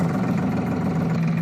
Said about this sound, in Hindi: उसके बाद आप ट्रैक्टर को चालू कीजिए।